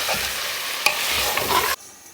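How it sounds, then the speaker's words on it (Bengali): Lentils and meat are stirred and fried together in a pan, a continuous hissing sizzle with scraping stirs that cuts off abruptly near the end. "এই যে মাংস দিয়ে কষিয়ে নিচ্ছি ডালটাকে ভালো করে,"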